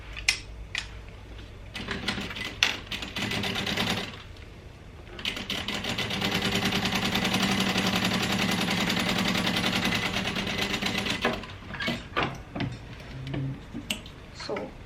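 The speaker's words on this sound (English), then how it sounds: "I'm just going to top stitch" A sewing machine top-stitches along a seam on a crossbody bag panel, with a long steady mechanical whir in the middle, broken by shorter stop-start bursts and light clicks before and after.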